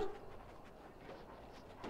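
Dogs in the video game Dragon Age: Origins make soft panting and whimpering sounds, faint and low under a murky game ambience, with no talk.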